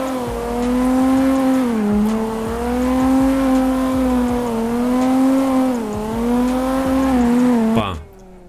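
A Lexus IS200 engine in a racing simulator game revs loud and close, its tone climbing and dipping through gear changes in a sustained whine before cutting off abruptly near the end.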